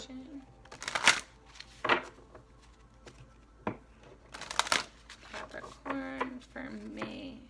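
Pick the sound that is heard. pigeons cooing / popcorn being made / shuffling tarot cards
shuffling tarot cards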